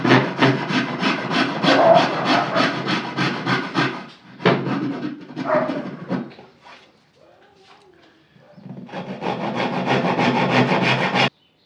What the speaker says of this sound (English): it's finally now time to saw out the main parts of the tenons.